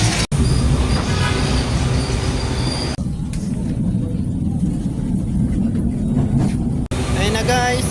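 A light rail train moves along the track, a loud, close rumble of wheels and car body with squealing bursts and clattering joints, and people can be heard talking over it.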